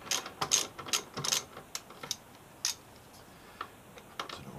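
A ratchet torques the brake caliper bolts on a Triumph Street Triple R motorcycle, giving quick bursts of sharp mechanical clicks in an irregular rhythm, close by and fairly quiet, with short pauses between runs of strokes.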